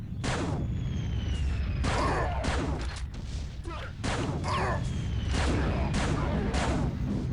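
Gunfire in a shooter video game played with a controller: a rapid series of sharp, loud shots in uneven bursts, some spaced apart and some clustered, with a faint voice between them.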